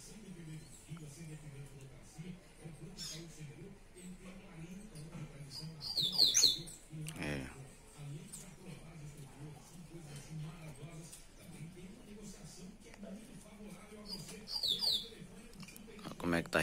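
A caged songbird, a coleiro or papa-capim, gives a couple of brief, high chirping phrases separated by long gaps, fairly faint against low room noise and murmuring voices.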